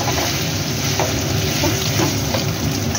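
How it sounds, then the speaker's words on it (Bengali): Paneer cubes frying in hot oil with salt, sugar and turmeric, a loud, steady close-up sizzle that runs unbroken throughout, with faint stirring clicks now and then. "তাই হালকা করে একটু নুন মিষ্টি দিয়ে একটু হলুদ দিয়ে পনিরটা ভেজে ফেললাম"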